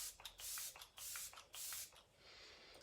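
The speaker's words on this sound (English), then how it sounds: "I'm going to go in with this setting spray" A setting spray is misted onto a face in three strong, hissing bursts in quick succession, each about half a second long, close and loud, followed by a softer, fading hiss.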